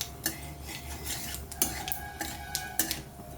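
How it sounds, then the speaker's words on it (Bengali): Mustard seeds rubbed and pressed with a metal spatula in a pan of hot oil, a series of light scraping clinks and brief sizzling taps spread unevenly over a few seconds, close and fairly quiet. "সর্ষেটাকে খুন্তিতে করে ডলে নেব"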